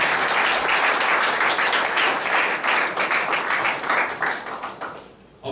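Audience applause at a wedding ceremony in a Paris town hall: sustained, loud, dense clapping from a crowd that fades toward the end.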